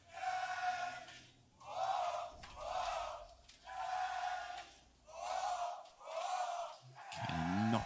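An esports arena crowd at a CS:GO grand final between G2 Esports and Team Liquid on Nuke, at the ESL Pro League Season 9 Finals. The crowd roars in a loud rhythmic chant, about six swelling pulses with brief dips between them.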